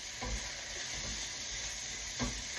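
Chicken and sugar snap peas stir-fry in a hot pan with a steady, even sizzle, and a couple of soft scraping stirs stand out over the constant frying hiss.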